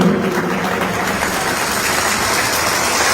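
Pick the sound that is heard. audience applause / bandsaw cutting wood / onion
audience applause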